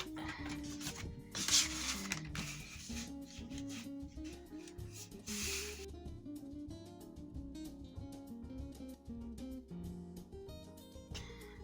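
Paper is cut by hand while crafting with Gansai watercolour paints: faint rasping, rubbing strokes, a couple of them louder bursts, over a quiet tonal background.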